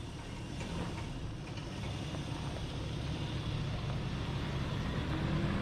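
A lifted Nissan R50 Pathfinder crawls along an off-road trail in two-wheel drive on low-pressure tires, giving a steady, moderate engine drone and rumble that runs unbroken and without voices.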